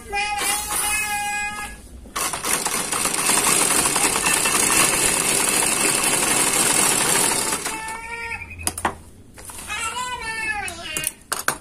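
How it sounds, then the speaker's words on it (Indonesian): A sewing machine stitches stretchy jersey knit fabric, a steady, dense mechanical whir running for about six seconds in the middle, with a person talking before and after it. "kita coba untuk menjahit ini ya"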